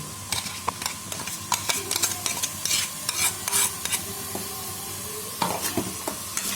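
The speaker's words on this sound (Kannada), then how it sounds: "ಒಗ್ಗರಣೆ ಆ ರೀತಿ ಈಗ ಇದನ್ನು ರುಬ್ಬಿದ್ದ ಕೊಬ್ಬರಿ ಹಾಕೋದು" Ground coconut stirred into a sizzling tempering for coconut chutney: repeated scraping spoon strokes over a steady, close hiss of frying, with no voices.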